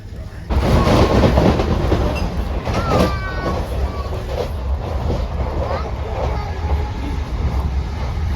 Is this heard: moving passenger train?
yes